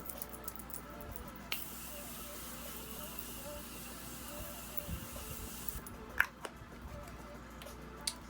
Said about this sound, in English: I'm gonna go in with my Morphe setting spray first